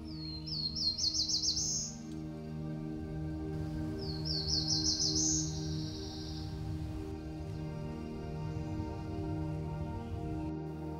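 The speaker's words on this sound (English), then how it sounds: "we try to mimic the call or song that the territorial bird that we're trying to capture comes in and sings" A territorial songbird in the forest at Hubbard Brook sings two rapid trilled phrases a few seconds apart, clear and fairly near, over a constant low drone.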